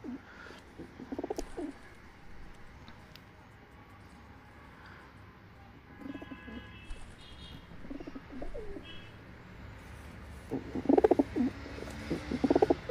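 Soft pigeon coos and a few chirps over a low background rumble, with the calls growing louder and closer near the end.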